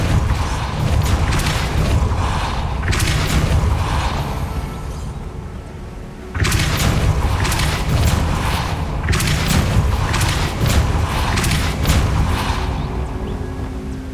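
Magic spell effects from the video game Hogwarts Legacy, with a deep booming blast, then crackling bursts and rumbling debris, a brief lull, and a second loud boom followed by more crashing bursts.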